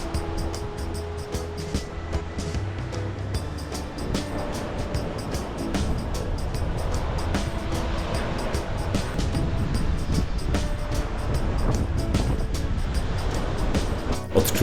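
Atlantic surf at a volcanic sand beach on Fuerteventura, a steady broadband wash of waves rolling over wet stones, building slightly louder in the second half, with faint clicks and no talking.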